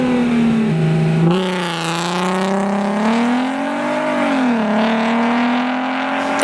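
An Audi TT VR6 engine revving close by, a loud smooth note climbing and settling several times with clear harmonic layers, alone without talk.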